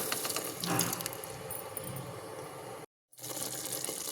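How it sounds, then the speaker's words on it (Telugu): Water is added to chicken masala frying in oil in a pressure cooker, producing a dense hiss of splashing and sizzling that drops out briefly to silence, then resumes at the same level, with no speech. "ఇప్పుడు కొద్దిగా వాటర్ వేసుకుందామండి"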